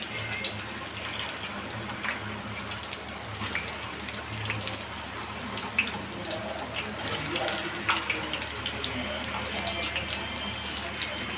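French fries deep-frying in a pan of hot oil give off a steady, dense sizzling hiss that holds at an even level throughout, with no one talking.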